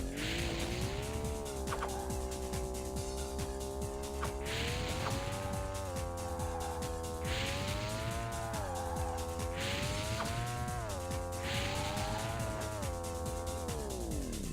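Race car speeding around a track in the Wreckin Crew video game, a loud continuous engine whine that rises and falls with gear shifts and cornering, with bursts of tire squeal, no voices.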